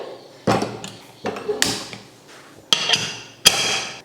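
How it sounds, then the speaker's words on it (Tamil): Several sharp metallic clanks and knocks, spaced irregularly, as a heavy pressure cooker lid is fitted and locked into place up close. "குக்கர் மூடி போட்டு"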